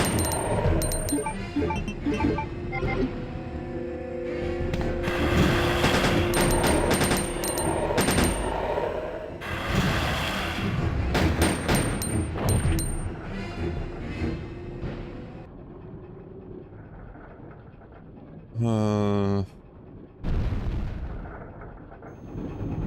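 Gunfire and explosive blasts from the 1998 video game Resident Evil 2, loud and dense with repeated sharp shots over a busy game soundtrack, one tonal sweeping effect near the end.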